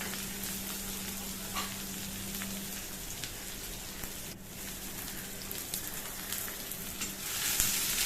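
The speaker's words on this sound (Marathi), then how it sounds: "कांदा लसूण चांगला मी परतून घेऊया" Onion and garlic sauté in hot oil with mustard seeds, a steady, fairly quiet sizzle that runs for the whole stretch, with faint scattered pops and no voices.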